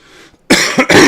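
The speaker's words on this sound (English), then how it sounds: "Let's get a little cough drop going here, so we don't be coughing." Two loud, close coughs in quick succession from a person during a live Nasdaq futures trading session, after a moment of faint background murmur.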